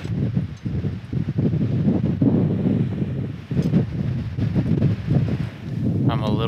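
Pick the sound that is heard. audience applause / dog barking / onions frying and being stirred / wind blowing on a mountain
wind blowing on a mountain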